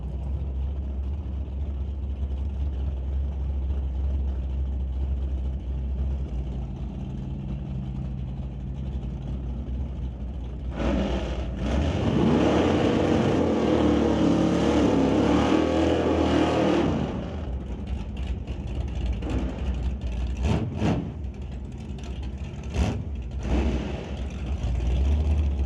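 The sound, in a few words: hot rod race cars at Old Car Centre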